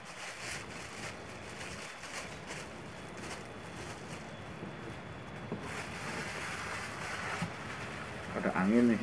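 Wind blows outdoors as a steady broadband rush buffeting the microphone, with a brief voiced sound near the end.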